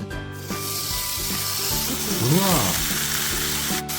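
A piece of beef fat rubbed around a hot sukiyaki pan for Osaka-style sukiyaki at home, giving a steady loud sizzle with scraping strokes and a low background hum.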